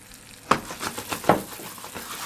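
Eggplant pan-frying in a generous amount of oil: a steady, soft sizzle with a few brighter crackles and spatters, heard close and moderately quiet, with no talking.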